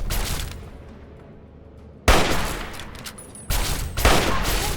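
Gunfire in the Fallout 3 video game: loud, dense bursts of shots that break in sharply after a quieter stretch, with rapid repeated cracks and booms, no talking.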